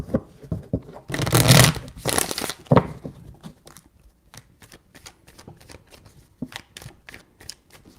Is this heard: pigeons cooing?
no